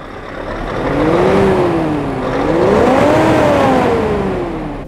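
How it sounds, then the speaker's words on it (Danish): A Scania truck engine revs loudly during a sound test, the pitch rising and falling twice in smooth sweeps as the throttle opens and eases off, close and alone without talk. "Nu laver vi en lydtest af en Scania."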